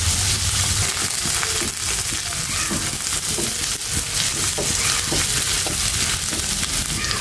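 Ginger and cumin fry in a pan with a steady, loud sizzle, browning lightly for a spinach and beef liver dish; a few faint clinks of stirring come through and no one speaks.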